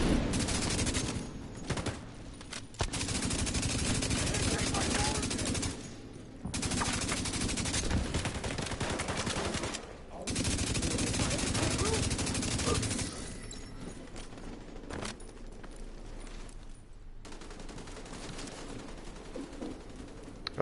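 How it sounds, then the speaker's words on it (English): Rapid automatic gunfire in The Division 2 shooting at a seeker mine comes in long sustained loud bursts broken by brief pauses, then quieter shooting later, with no talking. "Shoot that seeker mine!"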